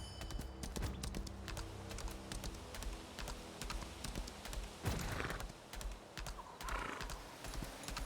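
A summoned horse in the video game Lost Ark neighs over steady clip-clopping hooves, with rapid keyboard typing clicking throughout and a louder whinny rising partway through.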